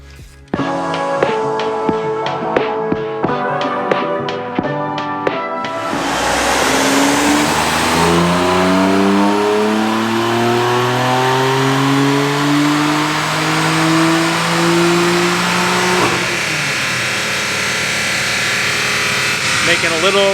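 A BMW with an S55 engine makes a few soft ticking clicks at first, then roars into a loud, sustained rev whose pitch climbs and holds at high revs, close and dominant.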